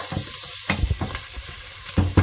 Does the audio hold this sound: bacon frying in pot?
yes